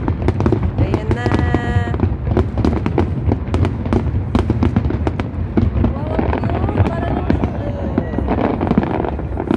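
Chinese New Year 2024 fireworks burst continuously nearby in Hong Kong, a loud dense crackle of rapid pops and bangs with whistling streaks, while people talk excitedly over the display.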